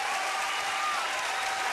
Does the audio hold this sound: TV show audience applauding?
yes